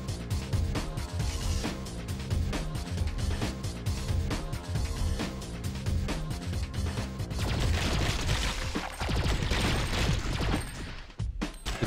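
A new heavy weapon blasting away in the video game Alien Shooter 2, a dense, continuous barrage of rapid shots and explosive crashes, loud and sustained with hardly a break.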